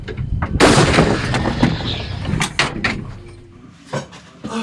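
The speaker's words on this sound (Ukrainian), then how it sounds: "Постріл." A single loud, booming artillery shot close by on a front line near Pokrovsk, its blast rolling out and fading over a few seconds with faint rattles after.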